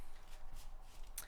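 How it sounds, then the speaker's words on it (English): Tarot cards being shuffled by hand, a few soft riffling and flicking bursts close by, quiet and brief, ending in a sharper snap of cards near the end, with no speech. "I'm gonna shuffle this like 2 more shuffles."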